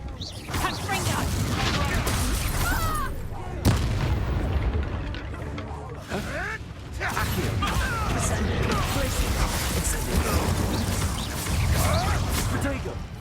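Repeated spell blasts from Confringo fire in a Hogwarts Legacy fantasy battle, loud booming explosions with whooshing bursts in rapid succession, layered with game combat noise and voices.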